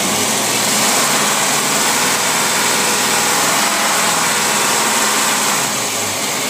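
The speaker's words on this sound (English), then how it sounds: "And I'm going to rev this engine up." A car engine being tested after carburetor work roars loudly and continuously, a dense steady drone with slight swells in pitch as it is revved, no voices over it.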